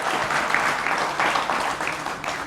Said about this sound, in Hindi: एक बार फिर जोरदार तालियों के साथ अभिनंदन है।